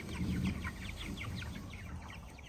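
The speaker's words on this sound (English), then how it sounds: "And these chickens eat so much better than our other ones." Chickens cluck and murmur repeatedly while eagerly pecking at their feed, a busy, close flock chatter of short overlapping calls with no speech.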